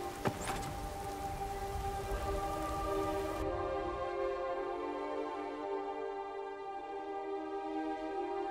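Steady rain in the video game Skyrim hisses as a constant even patter, with a sustained tonal hum running beneath it and a brief sharp tap near the start.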